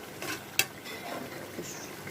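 Dried loitta fish stir-frying with plenty of garlic and onion, a quiet sizzle broken by scraping stirs and one sharp clink of utensil on pan.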